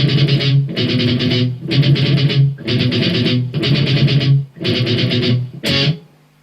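An electric guitar cranked with heavy distortion plays a riff from a song, loud repeated chord strums in a steady rhythm with brief gaps, ending on a sharp final hit.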